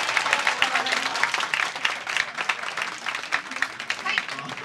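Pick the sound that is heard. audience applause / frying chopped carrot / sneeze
audience applause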